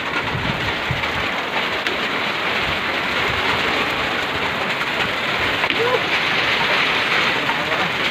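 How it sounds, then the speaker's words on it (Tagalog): Heavy rain pours down steadily at Lake Apo, Valencia City, Bukidnon, Philippines, a loud constant hiss of drops hitting surfaces, with faint voices now and then beneath it. "Grabe ka ulan."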